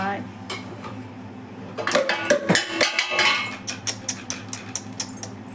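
Steel pots and vessels clatter and clink at home as a small child plays with them. The bangs come in a busy cluster, then settle into a steady series of knocks, with a voice talking faintly underneath.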